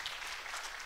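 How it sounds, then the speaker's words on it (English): Students seated at a lecture give themselves a round of applause, a brief, soft, even patter of many hands heard from a distance. "Can we just give ourselves a round of applause,"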